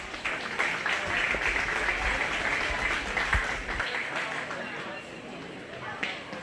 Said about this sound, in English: Go ahead and give both those girls a big round of applause